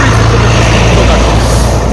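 A heavy truck rolls through a railway level crossing in Sławków, its loud, close engine rumble and road roar filling the whole moment without letup.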